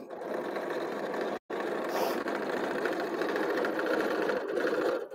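A sewing machine stitches a seam on pajama pants with a steady, close, whirring mechanical drone and one brief pause.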